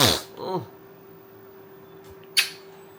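A person sneezes sharply at the start, followed by a short vocal sound and a later brief sharp burst, close and fairly loud against a quiet indoor background.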